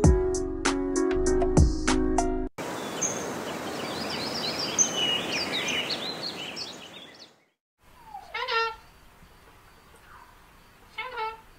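Parrot calls in several bursts: sharp, rapid clicking squawks first, then a stretch of faint chirps over outdoor hiss, then scattered louder squawks and whistles after a short gap.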